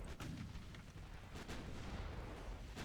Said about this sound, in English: The 5-inch guns are constantly pounding into that ship, but not enough.